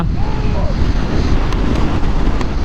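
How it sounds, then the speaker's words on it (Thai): Strong wind buffets the microphone on a motorbike ride along a smooth road beside a motorway on a hot afternoon, a dense, steady roar that fills the whole clip and sounds close and loud. "แต่ว่าลมแรงอยู่นะ"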